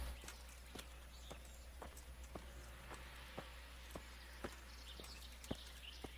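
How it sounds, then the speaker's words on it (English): Horse hooves clip-clop steadily at a walking pace in the medieval video game Kingdom Come: Deliverance, fairly close, over a low constant hum with no talking. "we gotta ride a horse all the way back"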